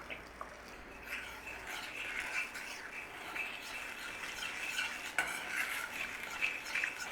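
Spoon stirring sugar as it melts in a pan for butterscotch drizzle, a soft, steady scraping and faint sizzle with occasional clinks of utensil against the pan, close but quiet.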